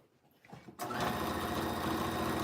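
A domestic sewing machine stitching jeans pockets starts after a brief quiet moment, then runs at a fast, steady whirring clatter close by with no talking.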